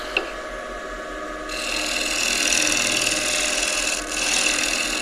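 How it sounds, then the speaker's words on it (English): A freshly sharpened shear scraper smooths the surface of a spinning live edge oak bowl on a lathe, a steady close hiss of scraping that starts softly and grows stronger, briefly easing near the end. "Just smooth this out. You can use that shear scraper we sharpened."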